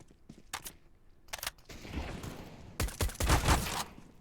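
Gunfire from a Galil rifle in a competitive esports video game match: short sharp bursts of rapid shots separated by brief pauses, ending in a longer, louder volley, with no talk.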